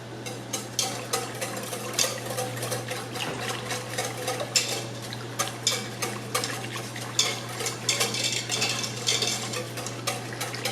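Gelatin being whisked into coconut yogurt, a quick repeated rhythm of light whisk clicks against the bowl over a low steady hum, close and continuous with no talking.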